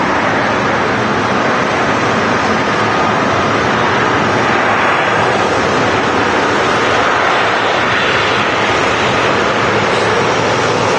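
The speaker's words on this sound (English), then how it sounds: "the raw, the sound of the Qatar Airways triple as well" A Qatar Airways Boeing 777 at Manchester Airport gives a loud, continuous, broadband jet engine roar. It carries a windy rushing quality and holds steady, close, throughout.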